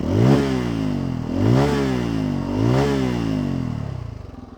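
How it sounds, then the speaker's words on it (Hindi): A 2025 N250 250 cc motorcycle revs its exhaust three times in a row, each burst rising in pitch and falling back. It is loud and close, with no speech, and it settles toward idle at the end. "एक एग्जॉस्ट मैं आपको सुना देता हूँ, इसका एग्जॉस्ट कैसे काम करता है देखिए।"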